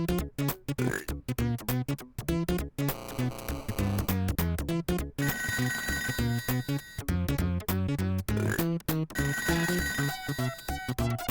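In the ToeJam & Earl video game, an electronic telephone rings in a busy, repeating chirp pattern over loud, dense chiptune-style game music, steady and continuous throughout.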